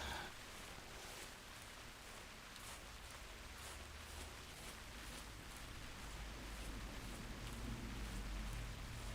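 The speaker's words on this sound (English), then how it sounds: "the rain has set in here at Loggers Point." Steady rain falling at Loggers Point in the hunting game theHunter Classic, a dense, even hiss of drops on the ground and foliage that stays constant and moderately loud throughout, with no voices.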